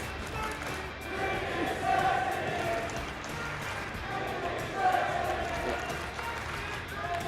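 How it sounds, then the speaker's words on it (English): Arena crowd at an esports grand final (BLAST R6 Major) chanting in unison, a dense, loud, sustained roar of many voices with rhythmic swells, filling the whole space without a single clear speaker. "the chant we heard a moment ago that, Crow, you could not hear"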